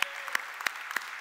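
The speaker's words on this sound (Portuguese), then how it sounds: "Mas você pode aplaudir a vida deles que já estão aqui." Scattered applause in a church, a handful of separate sharp claps spaced about a third of a second apart over a faint background, fairly quiet and thin rather than a full crowd.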